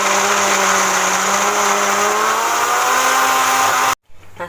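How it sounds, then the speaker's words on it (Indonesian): A kitchen blender grinds peanuts, a loud, steady whirring motor with rising pitch as the load changes, ending abruptly when switched off, followed by a couple of faint handling knocks. "Nah, sekarang saya akan memblender kacang tanah ini ya,"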